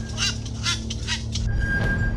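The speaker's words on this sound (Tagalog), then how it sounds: "May nakakatakot na tunog ang ibon." A wakwak bird gives a series of harsh, honking calls in quick bursts, fairly close, over a low steady background hum.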